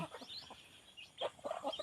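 Chickens clucking softly in short scattered calls, faint and somewhat distant, with no voices over them.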